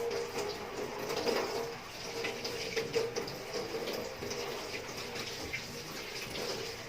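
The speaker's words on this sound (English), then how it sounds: "rinse through under running water, wash elbows, then the arms down to the hands." Tap water runs steadily while hands and arms are rinsed under it during medical handwashing, a continuous splashing hiss with a faint hum underneath, close by and without speech.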